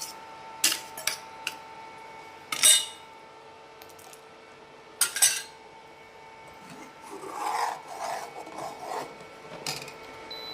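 Homemade buffalo milk, boiling in a pot on a stove for ice cream, is stirred with a spoon: close, intermittent scraping strokes and sharp metallic clinks against the pot, then a longer stretch of rubbing swirls.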